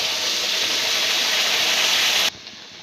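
Spice masala with chilli powder and homemade garam masala sizzling in hot oil, a loud, steady, close hiss that cuts off abruptly near the end, leaving quiet room noise.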